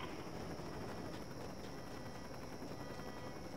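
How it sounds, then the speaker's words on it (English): A police helicopter in the video game H1Z1 gives a steady, continuous rotor drone, quite faint and unbroken, with no talk over it. "sounds like we may have lost the chopper"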